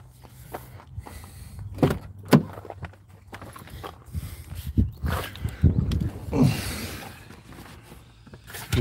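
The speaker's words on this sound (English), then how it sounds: "we're getting in the car now" People climb into a car while car doors thump shut, giving several sharp knocks and rustles close by over a few seconds, with light movement sounds in between and no clear talk.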